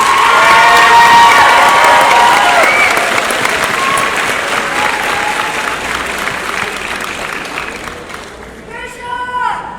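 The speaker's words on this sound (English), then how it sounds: "Let's give them a round of applause also." A graduation ceremony crowd applauds and cheers loudly for faculty and staff, dense clapping with shouts and whoops that gradually fade, then a fresh burst of cheering voices near the end.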